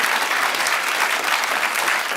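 Loud, dense studio audience applause on a talk show, a continuous wash of clapping at a steady level from start to finish.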